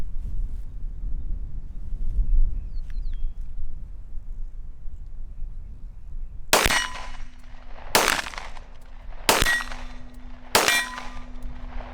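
Four sharp pistol shots from a handgun fitted with a red dot sight, fired at roughly one-and-a-half-second intervals at an outdoor range, each with a ringing metallic tail, after several seconds of quiet wind.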